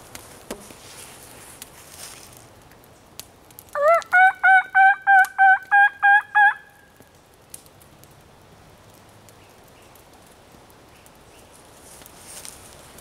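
A wild turkey gobbles once in response to a call: a quick, rattling burst of about eight warbling pulses, moderately distant, standing out against a quiet outdoor background.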